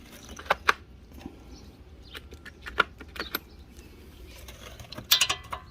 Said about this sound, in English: I'm going to go into my trusty little kit, mess it all up, grab a 7mm